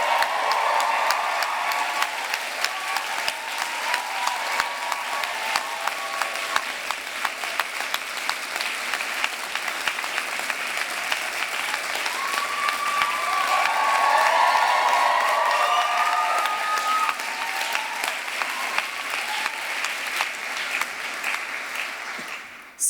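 Sustained applause and cheering from a large graduation ceremony audience for the graduates' families, dense clapping with scattered whoops and shouts that swell midway.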